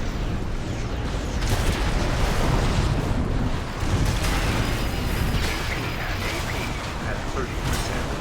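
Explosions and mechanical combat noise from the video game Armored Core VI, a dense continuous roar of booms and bursts with sharp blasts throughout, a voice talking over it.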